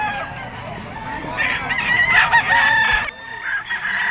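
Bull stag rooster crowing at a busy pet market in Bocaue, Bulacan, one loud, close, drawn-out cock-a-doodle-doo over a low background murmur of the market crowd.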